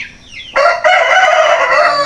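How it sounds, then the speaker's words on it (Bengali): An Aseel rooster crows loudly at close range, one long strained call that rises sharply and holds steady after a brief quiet lead-in, with no other voices. "মোরগের সাউন্ড অনেক সুন্দর"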